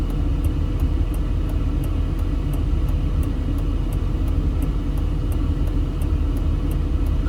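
Inside a car driving through North Las Vegas, a constant low road rumble and engine drone fill the cabin at a steady level, with a faint regular ticking in the high range throughout.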